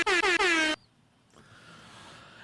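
Three loud air horn blasts in quick succession, then near silence with a faint hiss.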